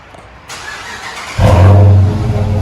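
A 2015 Dodge Charger 5.7L HEMI V8 with dual Flowmaster Super 10 exhaust fires up with a sharp start, then revs hard into a deep, throaty roar before settling to a loud, rumbling idle.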